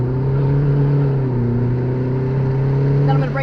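A car engine revs hard under exaggerated throttle, a loud steady drone with strong low harmonics that swell slightly before easing off near the end, close and continuous throughout.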